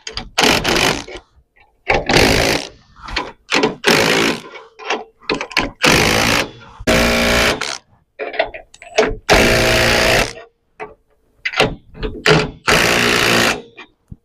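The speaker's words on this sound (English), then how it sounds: "So I just like to hit them with this smaller impact, and usually I get it pretty close to the torque" A small impact wrench rattles in repeated short bursts, tightening lug nuts on a trailer's rear axle in a cross pattern, with brief pauses between each nut.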